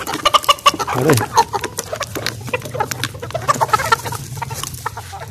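Black Australorp hens cluck and peck busily close by while eating pieces of roti, with short bursts of clucking over a low background hum; a voice briefly calls out.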